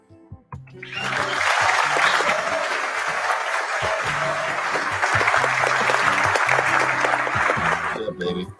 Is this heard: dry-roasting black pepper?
no